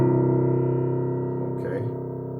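A piano's middle C key struck together with a low bass C, the two notes ringing as one sustained tone that slowly decays, with a faint brief noise partway through.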